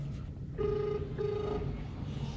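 An outgoing phone call rings back through a handset, two long steady ring tones with a short gap, faint under a low constant background hum.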